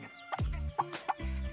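Chabo Japanese bantam hen clucking nearby in a short run of low, throaty clucks with a couple of sharper higher calls, loud and alone.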